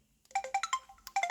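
Stock ringtone on an old Samsung flip phone, a quick bright chiming melody of short electronic notes in a rhythmic pattern, clear and close with no talk.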